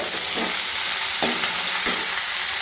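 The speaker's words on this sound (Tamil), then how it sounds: "ஃப்ளேம் வந்து லோ ஃப்ளேம் வச்சுட்டு நல்லா வெங்காயத்தை வதக்கிக்கலாம்" Onions sautéing in salt in a pan on a low flame for vendakkai kulambu, a continuous close sizzle with a few soft knocks from stirring.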